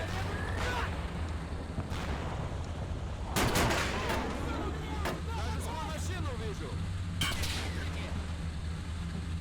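A wargame video game's gunfire sounds as scattered shots and a couple of sharp bursts against a steady low rumble, with a voice talking over it.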